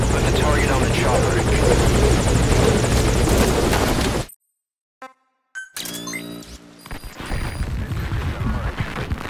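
Helicopter from the video game Metal Gear Solid V: Ground Zeroes roars loudly with dense rotor noise, cuts out abruptly to near silence, then returns with game sound effects and rotor wash.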